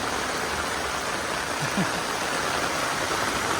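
Heavy monsoon downpour with water running through flooded garden beds, a steady dense hiss of rain and flowing water filling the whole scene, close and constant with no talk.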